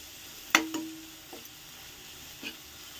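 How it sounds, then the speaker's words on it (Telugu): Chicken fries in a pan for biryani, with a faint, steady sizzle. A couple of sharp metal clinks from a utensil against the pan stand out near the start, followed by a softer scrape later. "అదైతే వేసేసుకొని బాగా ఫ్రై చేసుకుందాం."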